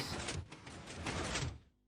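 A Minecraft redstone piston shoves a block along: one soft, sliding mechanical whoosh, quiet and under two seconds long, then trailing off to near silence.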